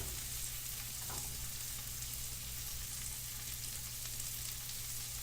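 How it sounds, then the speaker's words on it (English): Butter melting and sizzling in an already hot pan, a steady broadband crackle and hiss that runs the whole time at an even level with no talking. "So we got our butter melting. The pan's already kind of nice and hot."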